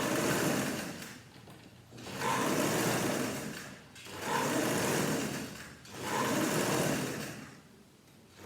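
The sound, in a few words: sewing machine top stitching a vest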